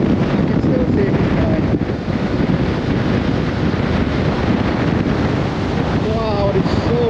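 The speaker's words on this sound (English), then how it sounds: "Wow, it's so windy." Strong wind from Storm Ashley roars steadily across the microphone during a ride, a loud, continuous buffeting rush with a faint water-like wash beneath it.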